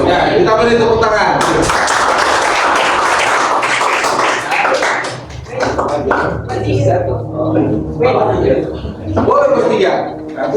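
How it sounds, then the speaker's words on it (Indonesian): A class of students in a Japanese lesson gives a burst of applause, loud and dense at first, then thinning into scattered claps and taps as chatter and laughter take over. "kita beri tepuk tangan"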